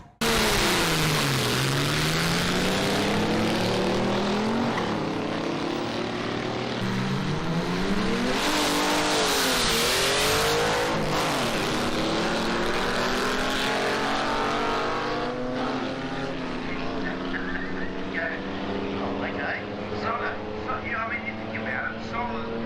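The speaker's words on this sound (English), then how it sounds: "Awesome old school dragsters hitting the track." Old school dragsters with solidly mounted rear ends and rag tyres roar down the strip, loud engines rising and falling in pitch as they launch and pass. The heavy racing noise fills the whole stretch without pause.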